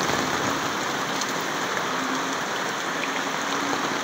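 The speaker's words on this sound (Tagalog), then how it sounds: "Ayan, susuungin natin yung ulan." Steady rain falls across the whole stretch as an even, dense hiss of drops on surfaces, close and constant, with no voices.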